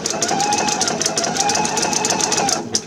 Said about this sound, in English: And then I'm going to sew to my finger.